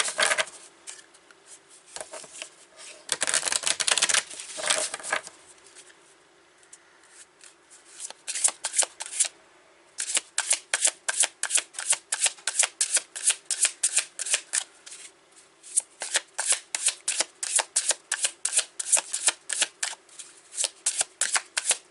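Wisdom of the Trees oracle cards are shuffled in quick, crisp riffling bursts, with a brief lull and then a long run of rapid, regular flicks, close and clear with no voices.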